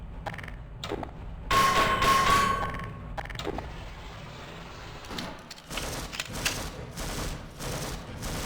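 Gunfire from soldiers in the Half-Life video game, with loud clattering bursts, metallic clangs and a ringing tone, dense at first and then coming in sporadic later volleys.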